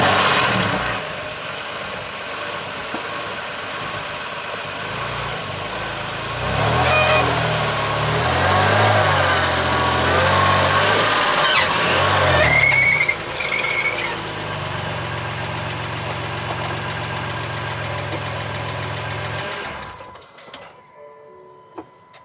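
A wrecked BMW M2 Competition runs steadily with a low engine drone and a rhythmic grinding rub from a damaged wheel that swells midway, then cuts off sharply near the end.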